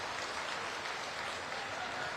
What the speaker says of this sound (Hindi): एक बार गुरु साहब पर जोरदार ताली बजा दो भाई।